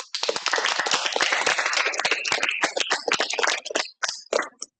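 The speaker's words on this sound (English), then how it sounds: "So maybe with a bit of an applause" Applause from a small seminar audience, a close, loud patter of individual hand claps that thins out into scattered last claps and stops.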